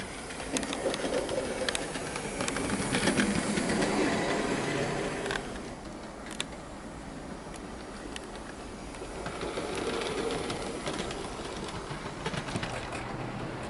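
A small Hornby NBR Class J36 model steam locomotive runs steadily on track, a continuous mechanical whirring and rattling with slight rises and dips in loudness, close by.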